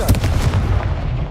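Confringo blasting spell cast in a Hogwarts video game, a loud continuous rumbling burst of booming blast noise with crackling impacts, dense and close throughout.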